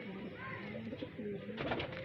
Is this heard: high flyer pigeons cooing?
yes